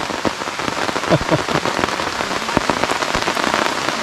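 Steady rain patters on a camping tent at night in the Thai forest, a dense, close drumming of drops with scattered louder taps throughout, no voices.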